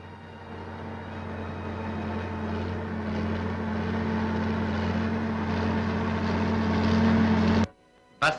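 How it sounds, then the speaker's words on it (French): A tractor engine labouring steadily as it pulls heavy stones from cleared vineyard ground in 1950s Algeria, a loud continuous droning hum that cuts off abruptly near the end. "Le tracteur arrache les lourdes pierres."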